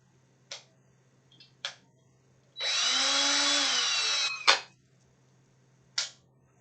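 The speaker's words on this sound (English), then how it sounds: "if something doesn't seem to be working, you just drill right into it." Power drill boring into a wooden bunk bed: one sustained whining spin of a couple of seconds, close and clear, framed by sharp clicks and knocks before and after.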